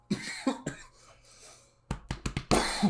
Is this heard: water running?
no